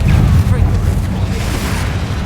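The Confringo blasting spell in Hogwarts Legacy goes off as a loud, deep, rumbling boom that sustains throughout, heavy in the low end, with game noise layered over it.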